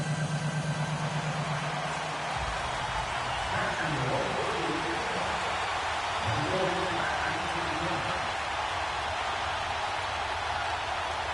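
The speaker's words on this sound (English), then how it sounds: "The rain set to continue as we are underway in the second half." Steady hiss of rain falling in a PS4 NFL football game, a broad constant wash with a low engine-like hum early on and a commentator's voice murmuring underneath.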